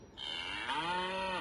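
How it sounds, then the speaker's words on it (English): A single long, loud cow moo, rising and holding steady with rich harmonics before fading at the end, heard alone. "A cow."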